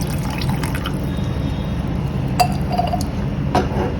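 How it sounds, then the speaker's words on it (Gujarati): Water poured into saffron milk while cooking Kashmiri pulao, with a low liquid rush under a few glassy clinks and drips from the vessel, close and moderate. "કેસર વાળું દૂધ નાખ્યા પછી આપણે હવે તેમાં થોડું પાણી ઉમેરીશું."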